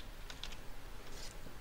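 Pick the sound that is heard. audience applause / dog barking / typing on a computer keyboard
typing on a computer keyboard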